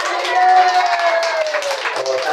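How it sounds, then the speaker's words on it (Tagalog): Church congregation at a Sunday morning service clapping together cheerfully, a steady patter of many hands with voices and talk mixed in throughout. "Palakpak na masaya."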